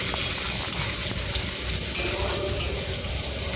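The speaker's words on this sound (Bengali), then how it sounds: "পেঁয়াজ কুচিটা দিয়ে ভালো করে লাল লাল করে ভেজে নেবে।" Chopped onion frying in a pan, a dense continuous sizzle with light crackle, close and steady throughout.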